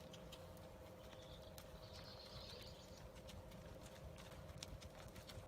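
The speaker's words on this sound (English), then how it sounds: "Nice typical trot down the long side." A horse trots down the long side of a dressage arena at a virtual Windsor competition, giving quiet, steady hoofbeats over a faint hum, with no talking.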